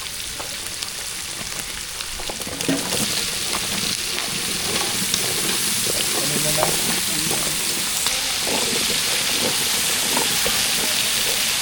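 Potatoes fry in a tempering of curry leaves, onion and green chilli, cooked for a temple feast. A steady bright sizzle hisses throughout, with occasional stirring clatters and scrapes. The sound is close and fairly loud, with faint background voices.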